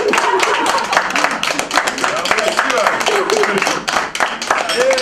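Wedding guests applaud at a reception, a dense patter of hand claps running steadily under loud talking and background voices throughout.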